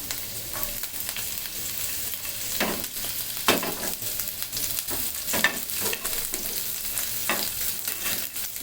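Onion and garlic frying in oil in a pan for a potato and meat curry, a continuous hissing sizzle broken by occasional stirring scrapes, with no talking.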